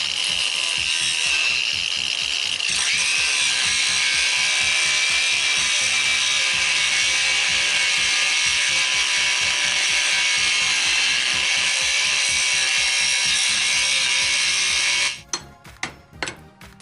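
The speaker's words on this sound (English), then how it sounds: "I'm just using my grinder." An angle grinder cuts through the steel head of a bolt on a trekking pole, a loud, steady high-pitched whine that runs without a break for about fifteen seconds, then stops and is followed by a few sharp clicks and taps.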